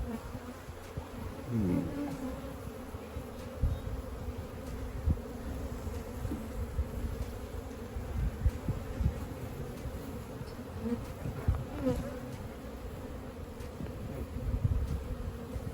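Honey bees hum steadily from an open hive during requeening: a dense, continuous buzz, close and fairly quiet, with individual bees passing nearby. No one speaks.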